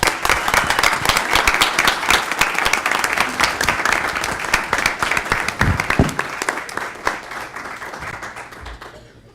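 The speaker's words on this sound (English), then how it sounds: "A round of applause." Applause at a town council meeting, a lively burst of clapping with distinct individual claps standing out, fading out toward the end, with voices mixed in here and there.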